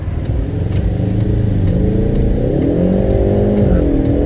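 A 2019 Ford Mustang with the 2.3-liter turbocharged four-cylinder EcoBoost accelerates hard as its tires break loose, a loud close engine drone climbing steadily in pitch, with no talk over it.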